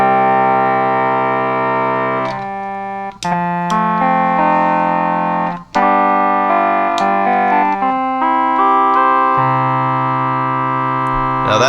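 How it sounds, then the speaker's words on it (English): Sustained major chords on an H-Pi Instruments Tonal Plexus microtonal keyboard, a loud, steady, organ-like tone that shifts through several chord changes, each with a sharp attack. "Now that major chord that I'm playing right now"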